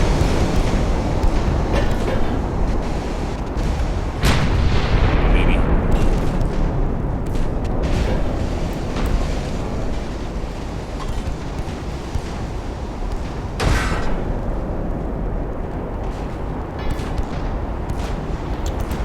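Warship guns firing in the naval battle game Ultimate Admiral Dreadnoughts: a loud, continuous low rumble of battle noise with a couple of heavy booms standing out, one near the start and one later on, with no talk.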